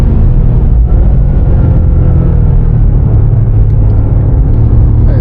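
A BMW M5 CS sedan accelerates hard down a race circuit straight, its engine a loud, dense, continuous roar and rumble heard from close by, steady throughout without talk.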